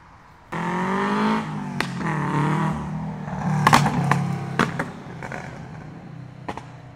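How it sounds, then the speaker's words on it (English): A modified turbocharged car revs hard at a Crestview Hills Cars & Coffee meet, its engine note climbing loud and close, followed by sharp fluttering chirps and pops as the throttle closes, with no talk. "God, that turbo flutter."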